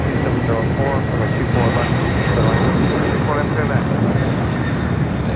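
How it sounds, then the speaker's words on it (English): FedEx MD-11 jet taking off on the south side of LAX at night, a steady broad roar of jet engine noise sustained throughout, with a radio voice talking over it. "FedEx MD-11 taking off there on the south side"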